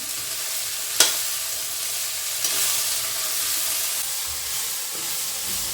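A mixture of vegetables and rice sautéing in a pan gives a steady, quiet sizzle and hiss, with one sharp stir or scrape early on and a fainter one later.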